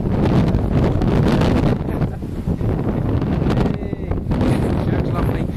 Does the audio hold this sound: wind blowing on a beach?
yes